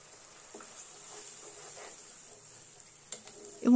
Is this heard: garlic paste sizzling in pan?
yes